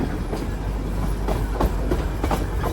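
Darjeeling Himalayan Railway narrow-gauge train rolling along its track, a steady loud rumble with repeated clickety-clack wheel beats and rattling carriages, no voices.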